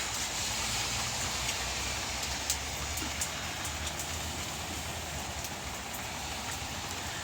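Steady rain falling outdoors, a continuous broadband hiss with faint scattered patters, even and unbroken throughout with no voices.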